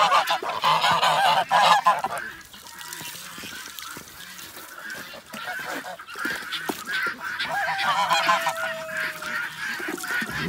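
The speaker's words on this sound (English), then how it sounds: "And the geese come, big bullies, kick the ducks out of their swimming hole." A flock of geese honking loudly and repeatedly close by in an outdoor farmyard pond area, with calls bursting in clusters and continuing throughout.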